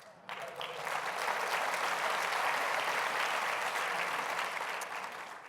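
A large audience applauds during a university president's State of the University address at Cornell, a dense, even wash of clapping that swells in quickly and holds steady, heard from a distance in a big hall.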